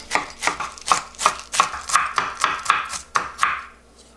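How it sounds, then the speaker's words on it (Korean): A knife chops through cabbage on a cutting board, shredding it into fine strips with a quick, steady run of about a dozen crisp, close thuds at an even rhythm, with no talk. "양배추를 먼저 채를 조금 썰어 놓을게요"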